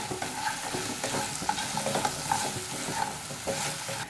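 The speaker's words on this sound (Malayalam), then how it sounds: "എല്ലാം കൂടി നല്ലപോലെ ഒന്ന് മിക്സ് ചെയ്ത് കൊടുക്കാം." Fried paneer pieces are stirred through sauce in a pan, a close sizzle broken by repeated scraping strokes of the spoon.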